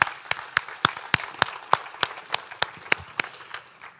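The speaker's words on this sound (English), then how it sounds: "Give some a big hand of applause." Scattered audience applause at a microbiome pitch day event, with a dozen or so distinct sharp claps ringing out at an uneven rhythm, tapering off toward the end.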